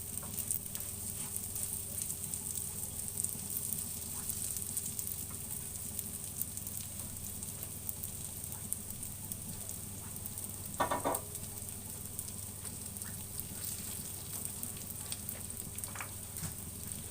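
Bread fries in ghee with cumin and coriander, giving a steady, close sizzle throughout with an occasional stir or scrape and no speech.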